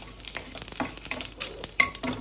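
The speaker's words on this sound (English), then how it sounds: "In the same wok, I am adding 1 bay leaf, 2 chilies, and 1 teaspoon of cumin." A bay leaf, two chilies and cumin sizzle in hot oil in a wok, a light frying hiss broken by scattered pops and the clink of stirring, close and fairly quiet with no voices.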